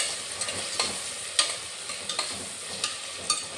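A spoon stirs crushed garlic, ginger and fennel seeds in a hot pan for egg biryani, producing soft scraping clinks at an uneven pace over a steady, close sizzle, with no voices.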